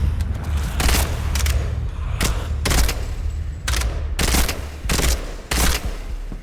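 Gunfire rings out in the horror game Bleak Haven on an island, heavy booming shots and short bursts fired at irregular intervals, each loud and close, over a low steady rumble of background ambience.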